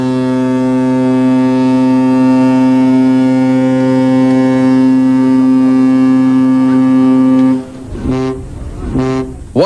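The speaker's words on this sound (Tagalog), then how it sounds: "Walang tigil ang busina ng Coast Guard ng China." A Chinese Coast Guard ship sounds a loud, deep, harmonic horn in one long sustained blast, then several short toots near Ayungin Shoal.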